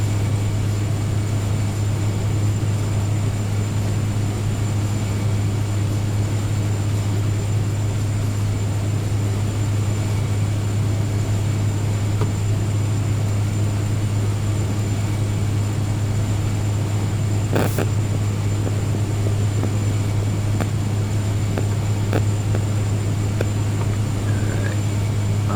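A DHC-3T Turbo Otter turboprop in flight, heard from the cabin as a loud, constant propeller and turbine drone with a strong low hum that never lets up.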